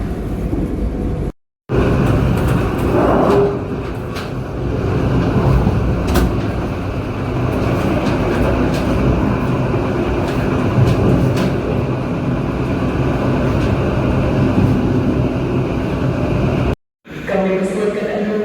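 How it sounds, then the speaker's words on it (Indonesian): The Mutiara Selatan passenger train pulls into Mojokerto station, heard from inside with a continuous low rumble and faint clanks of the rail cars that run on for a long stretch, with two brief gaps. "Tiba di stasiun Mojokerto, pemberhentian terakhir sebelum kereta api Mutiara Selatan tiba di stasiun tujuan akhir"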